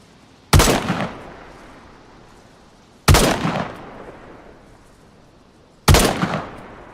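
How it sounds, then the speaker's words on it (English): Three loud single gunshots fired as bait in the video game DayZ, evenly spaced a few seconds apart, each a sharp crack with a ringing tail that fades into quiet. "I can fire off some bait shots"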